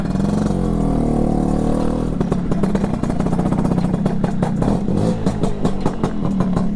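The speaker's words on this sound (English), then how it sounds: "give it a good kick and a bit of a rev, and away we go" A 1986 Piaggio Vespa PX200E two-stroke scooter engine, kick-started, idles roughly, then revs up with a rapid, buzzy clatter that stays loud and close throughout.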